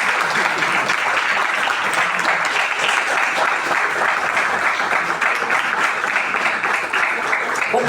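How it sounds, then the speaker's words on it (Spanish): A church congregation applauds in praise during an evangelistic service, a steady dense wash of many hands clapping for the full length with no voices on top. "Denle palmas al Señor."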